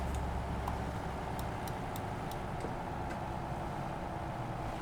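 Scania bus engine in the OMSI 2 bus simulator, a steady low rumble with a constant background drone and a few faint ticks.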